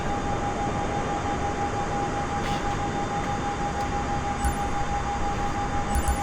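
A flight-simulator Airbus airliner takes off from runway 26 at Pensacola International, its jet engines giving a steady, unbroken roar with a constant high whine and no voices.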